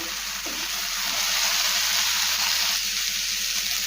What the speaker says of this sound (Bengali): সুইটকর্ন সমস্ত সবজির সাথে মিশিয়ে নিয়েছি আবারও গ্যাসের ফ্লেম মিডিয়াম টু হাই রেখে দু থেকে তিন মিনিট রান্না করে নেব